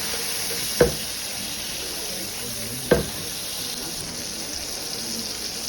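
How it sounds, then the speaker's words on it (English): A steak sizzling in a cast iron pan while being basted with butter, a steady close frying hiss with two sharp clinks of a spoon against the pan. "Add some butter. Baste the steak with the butter."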